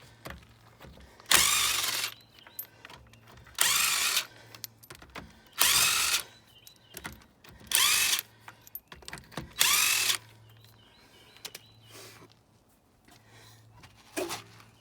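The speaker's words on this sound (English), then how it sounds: "I did bring my electric impact gun out to save us time getting these off" An electric impact gun rattles off car wheel lug nuts during a tire change, firing in five loud bursts of a couple of seconds each with brief pauses between, followed by quieter clicks and handling noises.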